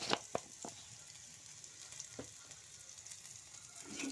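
Ingredients for a mackerel fish curry sautéing in a pan, giving a steady soft sizzle with a few sharp clinks of a stirring utensil, close and quiet with no talking.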